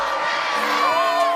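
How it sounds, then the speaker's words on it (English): Recorded crowd cheering and whooping, played back as supposed music: a steady, bright wash of many distant voices shouting together, sustained and even throughout. "It's just people cheering."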